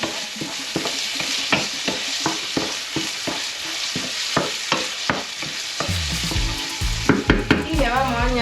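Chopped prawns sizzle in garlic oil in a frying pan, with a steady crackling fry and a series of rhythmic scraping stirs from a utensil, ending in busier clattering and hissing.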